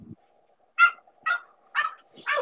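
Four sharp bulldog barks at a steady pace, moderately close, with a faint low hum between them and a brief thump at the start.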